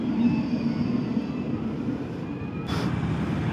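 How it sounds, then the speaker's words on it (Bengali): A train passing at a railway level crossing where the gate is down, heard as a steady low rumble with a distant horn-like tone early on, a brief hiss near the end. "আর একটা ট্রেন আসছে।"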